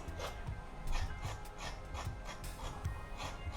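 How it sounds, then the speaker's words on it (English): A knife scrapes along raw carrots in a steady series of rasping strokes, roughly two per second, close and moderately quiet with no talking. "I'm going to scrape my carrot now"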